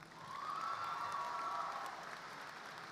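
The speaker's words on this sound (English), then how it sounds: "let's give her one more applause" Graduation ceremony audience at Ford II High School applauding a graduate, a soft, distant-sounding spread of clapping from a large crowd, fairly faint and steady, with a brief tonal whine in the middle.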